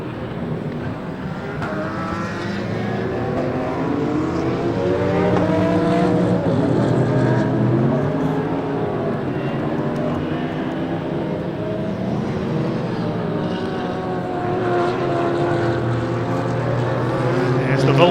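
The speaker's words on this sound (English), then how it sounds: "There's the Vulcan getting past Simon Tomlinson, who still hasn't come in" Race cars in a British Endurance Championship race at Donington Park roar past with a steady, loud engine drone that rises and falls as they pass, overlaid by commentary.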